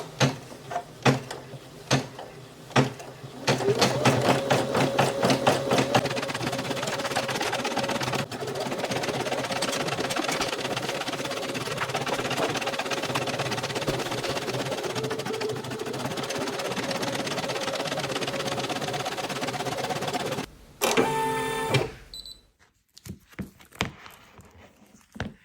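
An embroidery machine stitches a quilting design with a fast, steady mechanical chatter and needle hum that runs for about twenty seconds, then stops with a few clicks.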